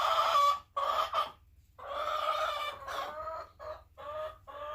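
Chickens cluck and squawk close by in a run of short, uneven bursts separated by brief pauses, with a soft background hum and no talk.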